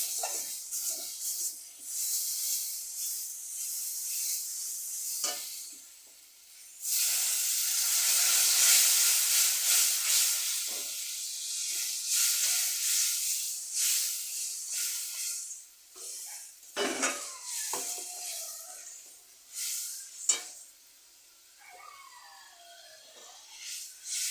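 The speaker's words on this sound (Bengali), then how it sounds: "মশলা আমার কষাই করা হয়ে গেছে তেল ছেড়ে দিয়েছে এবার আমি দিয়ে দেব জল" Water poured into a pan of oil-fried spice masala for a fish curry bursts into loud steady hissing steam, easing and flaring through the clip, with a few clinks and bubbling toward the end.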